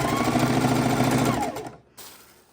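A sewing machine runs fast and steady, stitching fabric scraps together for a quilt, then stops abruptly near the end, leaving only a faint rustle.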